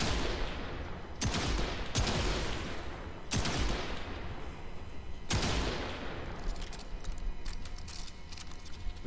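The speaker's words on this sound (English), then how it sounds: "That was a rapid fire, all 5 enemies down." Sniper rifle fire in the sci-fi shooter Warframe, four sharp, loud shots in quick succession, each trailing off into a long echoing decay, with no talking.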